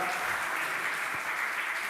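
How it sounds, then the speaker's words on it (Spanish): Congregation applauding in a church service, a dense even wash of clapping heard at moderate distance, steady throughout with no voices standing out. "Dale ese aplauso al Señor"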